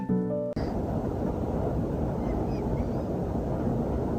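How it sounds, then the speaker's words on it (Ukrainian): A river flows in the Zakarpattia mountains during light rain, heard as a constant, even rushing wash of water that continues unbroken after a brief tonal sound at the start. "гори парують, звуки річки, дощика"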